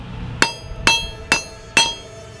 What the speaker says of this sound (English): pound this metal unless it's good and hot, and I think we're there